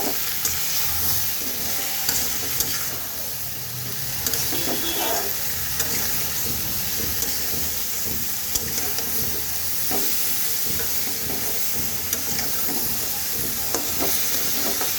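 Vegetables frying with turmeric and coriander powder for a tengra fish and mustard greens dish, a constant loud sizzle with continual scraping and stirring of the pan throughout, no talking.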